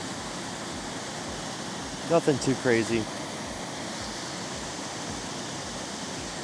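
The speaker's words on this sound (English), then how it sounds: "This is actually a pretty significantly large waterfall." A large waterfall at Wolcott Falls, Connecticut, on a rainy day, heard as a steady, broad rushing roar throughout, with a brief spoken remark partway through.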